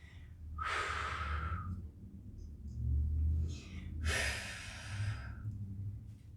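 Heavy, effortful breathing during a staggered-stance balance exercise with a mobility stick: two long, loud exhales about three seconds apart, with softer breaths and low rumble in between.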